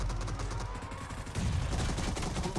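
Sniper fire in PUBG Mobile during a team deathmatch comes as a burst of loud, sharp gunshots that crack close by, one after another, over the game's background noise.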